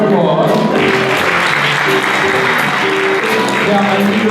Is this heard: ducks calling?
no